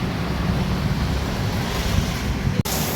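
A dense, steady roar of heavy rain pours down without pause, loud and close, with a brief dip near the end.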